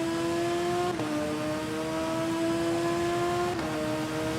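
A motorcycle engine whines upward in a steady, loud rising tone while accelerating out of a hairpin in the TT Isle of Man video game, with two quick gear shifts along the way.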